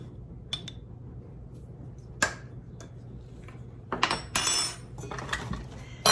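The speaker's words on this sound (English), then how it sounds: "Mix it up, and that is it." A spoon stirs dried thyme, basil and other dry herbs and spices in a bowl, making sparse light clinks and scrapes against the dish, with a brief cluster of busier rattling near the end.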